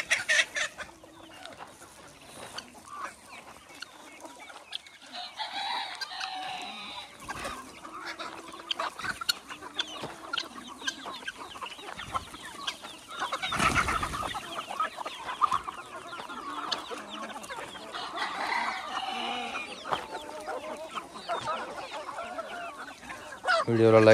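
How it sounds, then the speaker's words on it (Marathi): Free-range desi chickens on a farm, with a flock clucking and calling in scattered, fairly faint bursts over a quiet background for over twenty seconds. "मुक्त संचार गावर आणि कोंबडी पालन"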